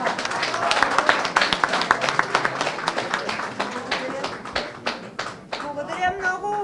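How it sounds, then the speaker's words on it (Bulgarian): An audience at an awards event claps and applauds for an honoree named Mira, a dense, steady patter of many hands close by that thins toward the end while a voice speaks over it. "Ръкопляскане за Мира."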